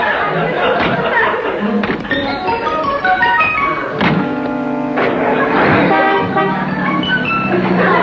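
A car driving away toots its horn in a couple of sustained blasts over steady engine noise, loud and close, while voices chatter and laugh around it.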